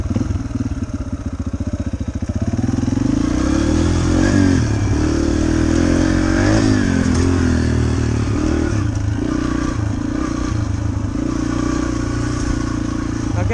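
A dirt bike engine runs steadily at close range, a loud continuous rattling drone with a brief rev near the start, heard alone without talk.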